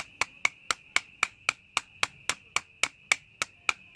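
A golf shaft is tapped into a Hawkeye VFT iron head with a lithium battery used as a hammer: about fifteen sharp, evenly spaced taps, close and crisp, with no talking.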